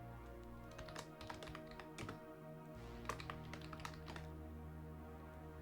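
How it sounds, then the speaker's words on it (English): Rapid, uneven typing on a computer keyboard, with a dense run of close, crisp key taps and a few harder strikes over a steady low background hum, no voices. "Wow, I cannot type today."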